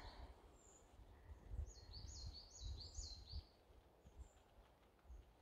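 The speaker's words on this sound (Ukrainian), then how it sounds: "Як співають пташечки." Several small birds chirp and sing in a summer forest along a woodland path, a cluster of quick high calls in the middle and a few scattered faint tweets, fairly distant over a quiet outdoor background.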